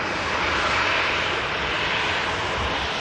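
A Ryanair jet airliner arriving at Manchester Airport, inbound from Dublin, gives a steady, loud broadband engine roar that holds unbroken through the whole stretch.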